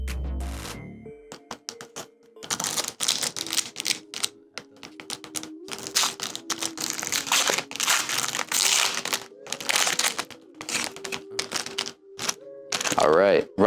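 Avengers vs X-Men trading card packs being ripped open: close, busy crinkling and tearing of foil wrappers in repeated bursts, with someone talking intermittently over the handling.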